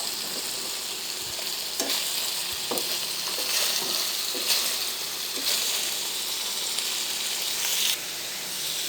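Chopped tomatoes fry in a pan for a tomato paneer curry, a steady soft sizzle with a few scrapes and stirs, close and even throughout with no talking.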